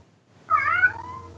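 A cat meows once, close and clear, a rising-then-falling cry lasting under a second after a short silence, over a faint low hum.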